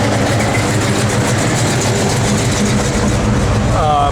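A 1970 Chevrolet Chevelle SS big block V8 runs steadily at idle, a loud, continuous low rumble throughout with a faint voice coming in near the end.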